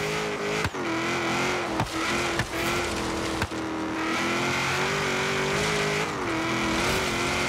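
Car engine droning at high revs in Forza Horizon, a sustained loud tone that rises and falls slightly, with a few brief tire squeals and bumps marking quick jolts over the steady roar.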